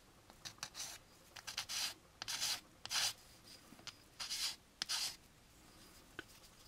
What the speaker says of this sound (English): sand down along this edge to remove that flash